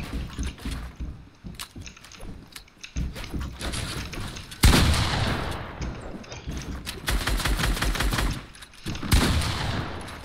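Rapid bursts of video game gunfire crack and thump in quick volleys, some sustained like automatic fire, loud and close with sharp dense onsets.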